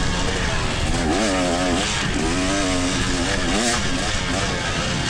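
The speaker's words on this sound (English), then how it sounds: "listen to this bike in second gear" A dirt bike in second gear, ridden through rutted ground, screams at high RPM, a loud continuous engine whine with rising and falling pitch sweeps as the throttle works, and a rider speaks over it.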